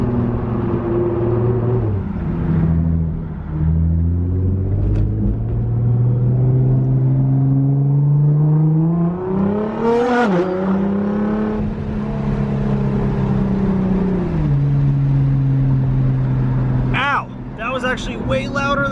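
A powerful Nissan GT-R engine revs and accelerates through gears, rising pitch sweeps and a deep roar, loud and close, in low light near a truck, with a voice briefly near the end.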